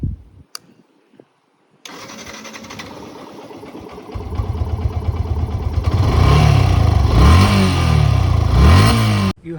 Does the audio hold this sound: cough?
no